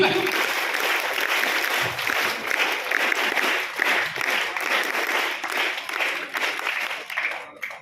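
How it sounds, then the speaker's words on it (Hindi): Students giving a special round of applause at a school awards event, dense sustained clapping from a crowd with voices and cheers mixed in, tapering off at the end. "अब एक बार ताज की खातिर स्पेशल ताली बजाओ"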